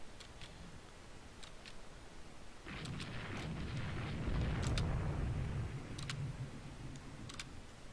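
Naval gunfire and shell hits during a battle in the Rule The Waves 2 strategy game, with an Alpino class ship taking a hit: a rumbling surge of impact noise midway, sharp ticking reports scattered throughout, moderately loud.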